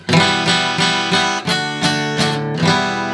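Forceful strummed guitar chords hit hard in a steady rhythm, each stroke sharp and loud with ringing strings between.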